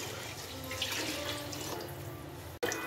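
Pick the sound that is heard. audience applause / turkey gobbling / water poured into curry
water poured into curry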